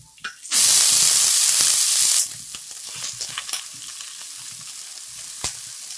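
Ponnanganni greens land in a pan of softened onions with a little chili powder and burst into a loud, close hissing sizzle that fades to a quieter fry with scattered stirring clinks, no speech.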